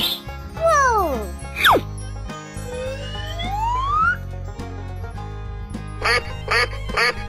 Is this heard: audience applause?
no